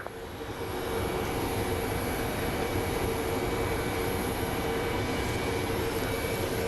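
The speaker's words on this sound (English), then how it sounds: "And here comes our United flight from Houston." United airliner inbound from Houston on final approach to runway 25 left at Phoenix Sky Harbor, a steady broadband engine roar rising in the first second and then holding loud and even throughout, with no talk.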